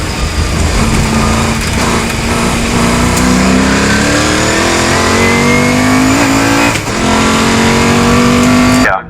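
Saloon race cars at Oulton Park storm past with high-revving engines, a loud, close, continuous roar rising through gear changes with a brief lift near the end, no voices.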